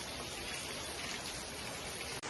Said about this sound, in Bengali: কিরকম ভাবে অনর্গল বৃষ্টি পড়তেছে সেটা আপনাদেরকে দেখাইতেছি